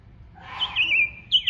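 A common blackbird song rises from a low warbled start into clear, high fluting and chirping notes, with a second short phrase at the end, moderately loud and alone.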